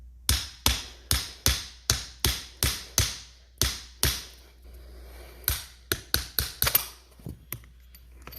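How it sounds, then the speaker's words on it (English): Sharp metallic hammer blows on a spanner to loosen a collar ring out in a steady run of about ten strikes, then after a pause a quicker, more irregular burst of hits. "hold the spanner down with a lot of force and then hit it with the hammer to loosen it"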